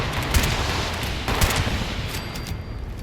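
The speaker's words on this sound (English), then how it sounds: "Turrets are doing work." Automated turrets firing in Fallout 76, rapid bursts of gunfire in clustered volleys with loud cracks, continuous and fairly close, no voices.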